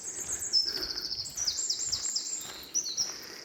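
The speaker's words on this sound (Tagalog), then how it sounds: "Tapos ang ingay ng mga ibon." Birds chirp and sing loudly in a tunnel of trees along the Camino de Santiago in Spain, bright overlapping calls and trills filling the air close by with no talking.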